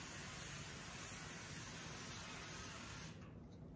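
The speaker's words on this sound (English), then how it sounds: "I'm going to just spray the pan with avocado oil." Avocado oil spray hisses onto a muffin pan in one long continuous burst, close and steady, cutting off near the end. No voices are heard.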